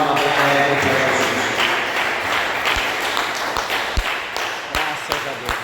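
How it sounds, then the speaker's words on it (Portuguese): A church congregation bursts into applause, a thick wash of clapping with a voice over its start, then thins to scattered individual claps and taps as it settles. "dê uma salva de palmas para Jesus"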